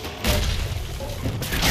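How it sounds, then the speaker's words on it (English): An explosion in Dragon Age: Inquisition, a loud sustained boom and crashing rumble filling the short span, with a burst of renewed noise at the end. "Explosion!"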